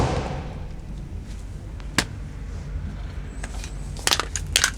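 A BMW E92 335i crashes, a sharp crunching impact followed by scattered thuds and rattling debris, loud and close with no talking.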